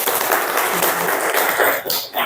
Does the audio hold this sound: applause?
yes